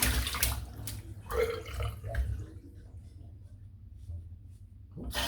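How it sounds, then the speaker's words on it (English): A shaving brush is rinsed under running water at a sink during a head shave with Gron Lycka soap, with a steady splash that briefly swells a couple of times, then tapers to a softer trickle. "A little bit of soap in the brush, just give it one more little rinse."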